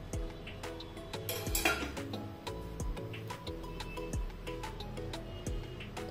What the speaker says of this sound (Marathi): थोडं मिक्स करून घेऊ।